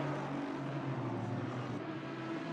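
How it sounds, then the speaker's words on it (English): Aston Martin DBR9 GT3 race car in a racing video game, its engine droning steadily and fairly loud throughout, with a continuous low hum and no talking. "I don't think there is another GT3 car in existence to sound as good as this Aston."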